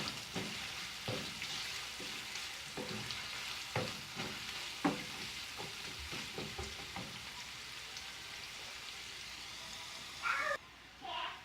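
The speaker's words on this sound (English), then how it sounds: "Just mix them well in the oil. Saute for a couple of minutes." Ginger and spices sizzling in hot oil for spicy potato puttu, a steady frying hiss broken by repeated scrapes and taps of a spoon stirring in the pan, up close with no talk.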